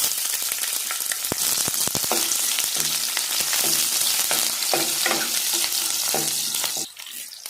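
Mustard seeds sputter and pop in hot oil with dense sizzling crackles and scattered sharp bursts, close by, ending in a quieter sizzle.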